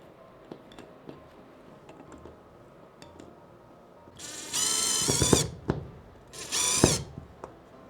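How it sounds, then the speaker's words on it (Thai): A power screwdriver drives mushroom-head screws to mount a large roller blind, two loud bursts of whirring about two seconds apart following quieter handling knocks and clicks. "จากนั้นแนะนำว่าเราก็จะใช้เป็นสกรูแบบหัวเห็ดแบบนี้นะครับ แล้วก็ติดเข้าไป"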